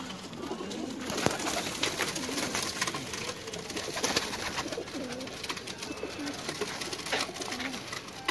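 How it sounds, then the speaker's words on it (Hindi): Pigeons in a champion racing loft coo softly in a low, rolling rhythm against a busy background of rustling and faint bird activity, fairly quiet and continuous with no clear talk. "ये कबूतर आपको दिखा रहे हैं"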